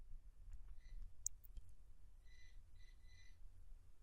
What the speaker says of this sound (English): And then click OK.